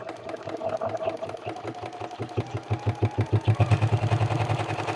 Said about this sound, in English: I'm going to run a little top stitch right along the top of this curve.